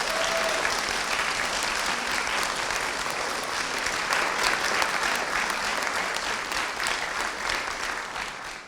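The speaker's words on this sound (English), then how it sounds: "Should we give them a round of applause?" Loud, sustained applause from a full audience at an interfaith ordination and graduation ceremony, many hands clapping in a thick, even wash from start to finish.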